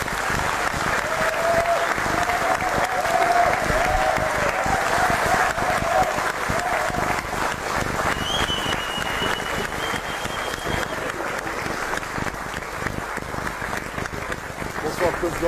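Loud, sustained audience applause fills a concert from 1999, a dense wash of clapping and crowd noise under faint voices and tonal music lines throughout.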